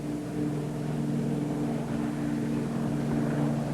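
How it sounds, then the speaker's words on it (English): A Convair 240 propeller airliner takes off on a single engine, giving a continuous droning propeller roar with steady tonal harmonics at constant loudness throughout, with no voices over it. "After a short run, the plane takes off easily"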